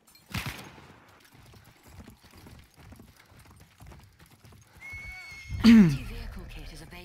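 Horse hooves clip-clop steadily in Battlefield 1, with a loud, close neigh near the end. A sharp hit opens the clip, and voices speak over the hoofbeats.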